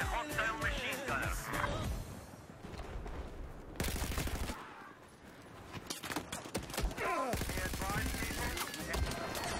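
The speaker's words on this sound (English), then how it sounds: "West of your current location, there is a hostile machine gunner." Bursts of machine gun fire in Battlefield 4 gameplay, rapid rattling volleys that come and go in dense waves against a busy game soundscape.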